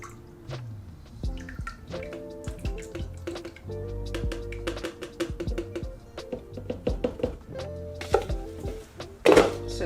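Lye solution being stirred into coconut oil for cold-process soap, heard as close liquid sloshing and scraping with repeated knocks and clinks of a utensil against the container, with no talk.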